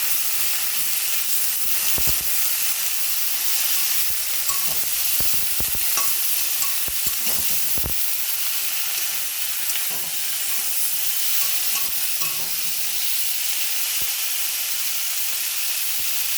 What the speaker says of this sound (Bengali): এবার এর মধ্যে ঢ্যাঁড়সগুলোকে দিয়ে দিচ্ছি। ভালো করে ভেজে নিচ্ছি।